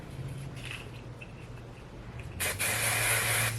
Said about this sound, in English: Spray a generous amount.